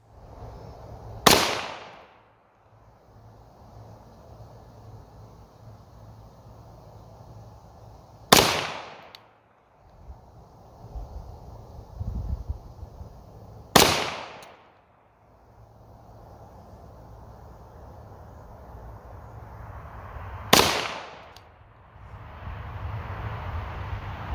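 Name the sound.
Walther PPQ 9mm pistol shots fired at 50 feet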